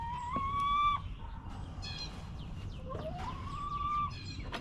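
Chickens in a large backyard chicken run with thirteen birds, drawn-out rising squawks and clucks from a couple of hens, moderately close over a steady background hum.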